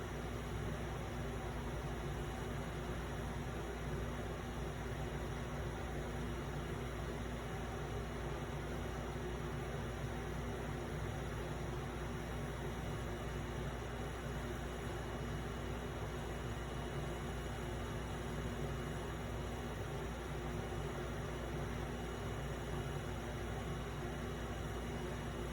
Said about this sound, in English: You can probably hear the AC running too.